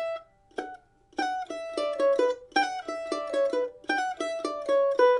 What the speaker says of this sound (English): that's the best way I can describe a grace note, really, is it's a very quick pull off.